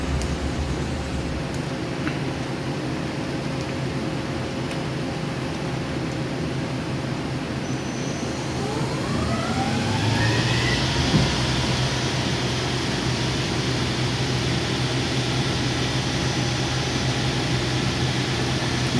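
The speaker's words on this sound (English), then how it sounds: "We're just looking at the inside of the machine and kind of doing a dry run of the machine" A YCM NTC-1600LSY CNC lathe with FANUC control, 6-inch chuck and sub spindle runs a dry cycle, giving a steady mechanical hum with a rising spindle whine partway through, continuous and fairly close.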